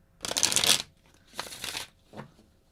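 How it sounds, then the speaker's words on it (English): A tarot deck being shuffled by hand in three bursts of riffling card noise, the first longest and loudest, the last short and quieter, with no talk. "I'm going to shuffle one last time for the third deck"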